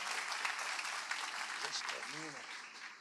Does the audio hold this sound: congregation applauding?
yes